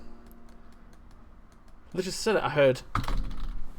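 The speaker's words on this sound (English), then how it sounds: "So he's typing a dad joke." Keys clatter softly on a computer keyboard in a steady stream of light clicks, picked up close and carrying on beneath a brief stretch of people talking partway through.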